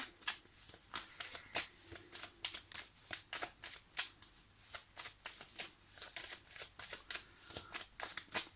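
Tarot cards being shuffled by hand, a rapid run of crisp riffling flutters and soft slaps repeating steadily and close up, with no one speaking.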